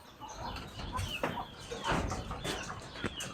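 Chickens and newly hatched chicks on a farm cluck and peep in short scattered calls, close and fairly quiet, with light rustling between them.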